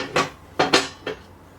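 A metal charcoal plate is set into the body of a cast iron Lodge Sportsman hibachi grill, giving three or four close, clanking metallic knocks in quick succession with no talk.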